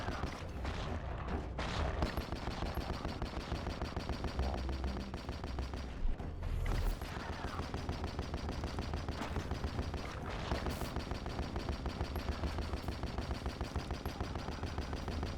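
Constant rapid gunfire in a fast shooter video game, a dense stream of shots, loud and close, running without pause throughout.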